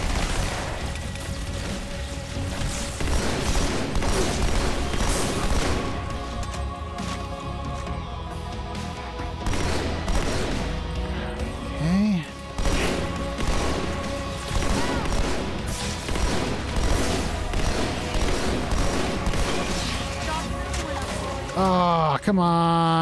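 Gunfire in the Halo 2 shooter, dense and continuous throughout, with bursts of shots, impacts and crashes layered over game music and effects, while a player talks over the action.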